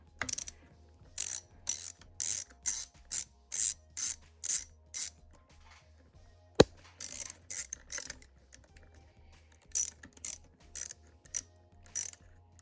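A ratchet wrench tightening the fuel line bolts on a Jonsered string trimmer, clicking in quick rapid bursts with short pauses between strokes and a single sharp knock midway, close and clear.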